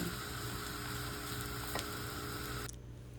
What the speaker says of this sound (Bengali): চেষ্টা করবেন খুবই ঘন ঘন চালগুলো উলটপলট করে নেড়ে দিব